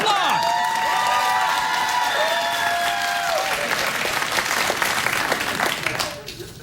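A late-night talk show studio audience breaks into loud applause mixed with whoops and cheers, sustained for several seconds before tapering off sharply near the end, with shouting voices over the clapping.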